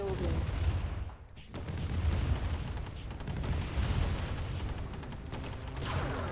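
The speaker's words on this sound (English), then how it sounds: "Whoa, okay, that's the sound of an obelisk." An Obelisk tower fires in a Command & Conquer skirmish amid dense, continuous battle noise: crackling blasts, rumbling explosions and a sharp, high-pitched zap.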